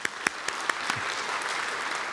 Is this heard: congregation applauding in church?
yes